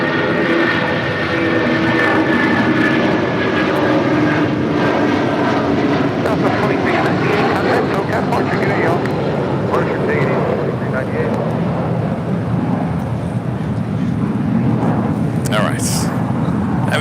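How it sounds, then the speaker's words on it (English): A United Airlines Boeing 757-300 jet at LAX roars loud and steady for the whole stretch, a broad engine rumble mixed with wind buffeting, while someone talks over it. "United Airlines, flight 2279 heading to Denver, 757-300."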